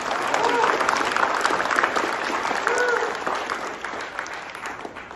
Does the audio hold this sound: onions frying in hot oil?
no